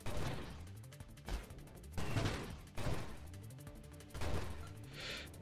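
Flak weapon in the space shooter Nova Drift, a shotgun-like burst firing repeatedly, roughly six punchy crashing blasts at an uneven rhythm with short decaying tails, fairly quiet overall.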